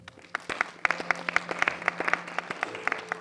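A church congregation breaks into applause during a French sermon, a steady patter of many hands with sharper individual claps standing out, moderately loud and sustained with no speech over it.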